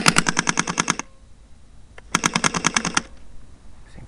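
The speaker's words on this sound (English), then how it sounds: "Gun firing test." An airsoft gun mounted on a model plane fires in a ground test: two crisp, evenly spaced rapid bursts of about eight to ten shots each, separated by a quiet pause with a faint motor hum.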